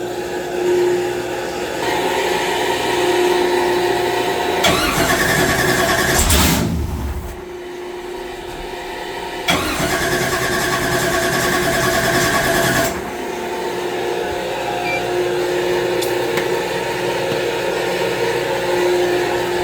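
A blown LS engine on a dyno cranks and runs with a steady, loud mechanical drone, broken by a short drop in sound near the middle before it settles back into a rough idle.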